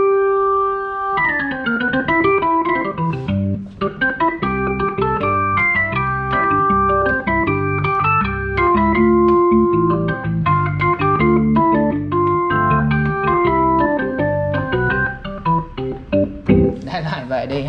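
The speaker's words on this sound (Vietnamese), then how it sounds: "tiếng organ nhưng mà là jazz organ" Jazz organ voice on a Kawai CA48 digital piano, played as a full chordal passage with sustained, shifting harmonies and a busier run near the end, loud and steady with no talking.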